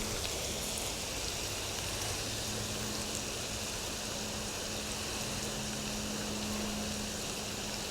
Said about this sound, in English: I'm going to keep sauteing these for 10 more minutes